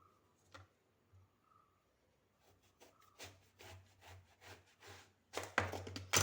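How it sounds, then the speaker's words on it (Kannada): Knife slicing brinjal into round pieces on a board, a series of close, crisp cuts and taps that grow denser and louder toward the end, with no talking. "ಈಗ ಇದೇ ಥರ ರೌಂಡಾಗಿ ಕಟ್ ಮಾಡ್ಕೊಳ್ತೇನೆ ಎಲ್ಲವನ್ನು ಕೂಡ."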